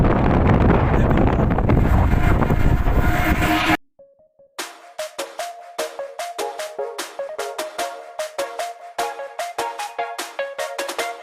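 Loud wind buffets the microphone in a continuous roar for a few seconds on the Dhaka Metro Rail, then cuts off, followed by rhythmic percussive music.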